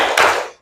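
Group 'tepuk semangat' cheer during a classroom lesson: a short, loud burst of many hands clapping together, close and dense, fading out quickly after about half a second.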